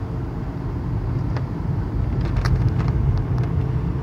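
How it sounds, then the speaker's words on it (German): A car travels along a road, heard from inside the cabin as a steady low rumble of engine and tyre noise, loud and continuous with faint passing sounds. "Ich bin mit dem Auto unterwegs."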